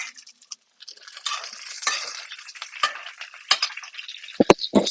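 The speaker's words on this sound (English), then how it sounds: "And this butter bathing, it caramelizes the butter" Steak frying in a pan while being basted with butter: a soft, uneven sizzle and spattering, with sharper clinks of a spoon against the pan near the end.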